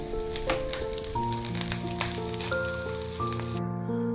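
Dried fish frying in a pan gives a soft, continuous sizzle and crackle, heard fairly faintly beneath sustained tonal notes.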